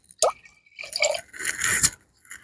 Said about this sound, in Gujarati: મેં લીધું પાણી, તો પાણી નાખશું આમાં.